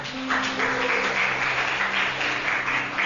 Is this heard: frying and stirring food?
no